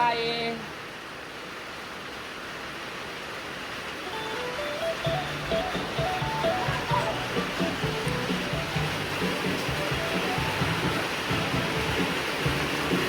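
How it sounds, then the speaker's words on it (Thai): Rain falling outdoors, a constant broadband hiss of drops that runs the whole length, with a melodic song playing over it from a few seconds in. "ฝนตกดีขนาดเลยบรรยากาศฝนตก"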